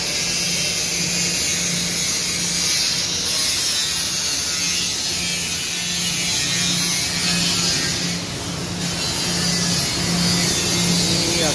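Machine cutting a section of a coffee-roaster grill, fitted with a dust extraction system: a steady, loud broadband whirring drone with a low hum, continuous for the whole stretch with no voices.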